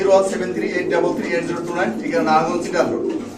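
Pigeons coo steadily in a loft where the birds are nesting with eggs and squabs, a soft continuous murmur of overlapping calls with a voice talking over it.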